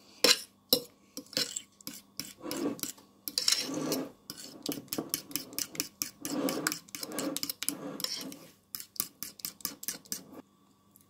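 A spoon or fork clinks against a bowl while a sour cream ice cream base is stirred until smooth, producing quick irregular metallic taps and scrapes, close and distinct, with brief pauses between bursts.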